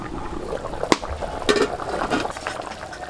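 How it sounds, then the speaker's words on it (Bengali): Water splashes and pours into a pan of spiced potatoes while cooking potol chingri, with a sharp splash at first, then a steady, moderately loud rush of liquid that settles into a soft simmering hiss. "এখন জল দিয়ে দিচ্ছি"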